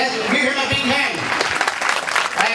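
Audience applause at a school and junior college old students' reunion, dense steady clapping filling the hall for a couple of seconds with a voice speaking over it.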